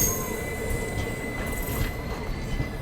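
The Bandra Terminus–Jamnagar Humsafar Express, hauled by a WDP4 diesel locomotive, rolls past with a continuous rumble, rattling wagons and a steady high wheel squeal that holds throughout.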